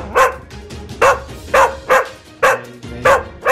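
A 15-year-old English Cocker Spaniel barks six times in a steady rhythm, close and loud, each bark short and sharp with brief pauses between them.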